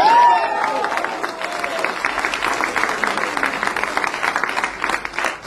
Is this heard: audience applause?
yes